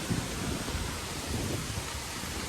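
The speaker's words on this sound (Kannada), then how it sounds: "ಮಳೆ ಅಂತ್ರಿ ಬರತೈತ್ರಿ ಸ್ವಲ್ಪ ಅಷ್ಟು ಜಾಸ್ತಿ ಇಲ್ಲ" Light rain falls outdoors in a soft, even hiss with no voices, holding steady at a low level.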